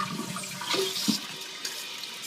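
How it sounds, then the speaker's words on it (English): A repaired household toilet flushes, water rushing and swirling steadily at close range and then refilling, with no talking. "make sure everything's flushing as expected"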